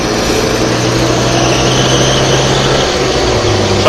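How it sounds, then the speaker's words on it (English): A BMW 2002 tii engine pulls at around 3000 RPM in fourth gear, a loud, steady droning hum heard from inside the car with no break throughout. "I'm now doing around 3000 RPMs, and in 4th gear it still pushes very nicely."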